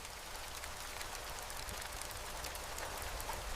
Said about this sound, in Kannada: ಆದ್ರೆ ಅಷ್ಟ್ರಲ್ಲಿ ಮಳೆ ಶುರುವಾಯ್ತು.